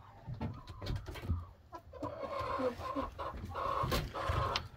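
A farmyard chicken clucks repeatedly in short, close bursts, with irregular rhythm and soft outdoor background noise.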